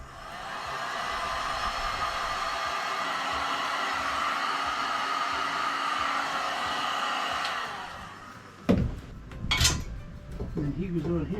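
A heat gun blows a steady, loud hiss onto a water pump hose fitted with gear clamps for about eight seconds, then shuts off. Short metallic handling clatters follow the stop.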